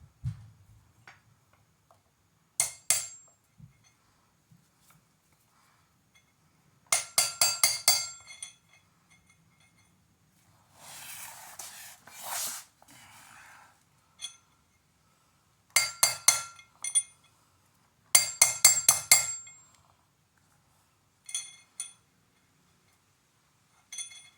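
Metal tapping as a new front wheel bearing race is driven in on a 1928–1931 Ford Model A disc brake conversion, the old race set on top; sharp ringing hammer blows come in quick bursts separated by pauses.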